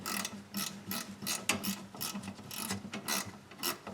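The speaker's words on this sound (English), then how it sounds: "maybe you want to pick up some of these ratcheting stubby wrenches" Rapid, regular clicking of a ratcheting stubby wrench, its pawl ticking in quick bursts up close with no voices.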